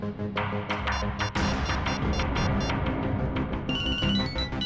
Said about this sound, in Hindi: ये क्या सर, मेरे फोन करने पर अलग तरह की रिंग बजी?